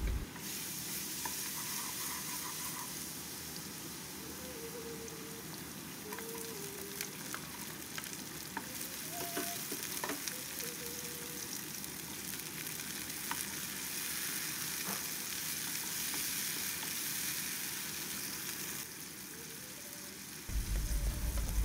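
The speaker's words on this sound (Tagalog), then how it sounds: "Mag-isa na po tayo ng bawang, sibuyas," Garlic and onion sauté in a pan for eggplant escabeche with a soft, steady sizzle and occasional stirring taps, faint and continuous for about twenty seconds, with no speech.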